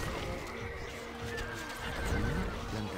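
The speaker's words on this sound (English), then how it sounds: "الحصان سريع." A horse in Stronghold: Crusader whinnies with a rising, wavering cry over faint hoofbeats, heard close and fairly quiet, no talking.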